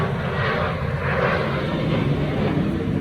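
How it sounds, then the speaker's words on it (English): Airplane taking off close by, its engine roar a loud, steady broadband rumble filling the whole clip without a break; no talk over it. "Damn plane's taking off all the time."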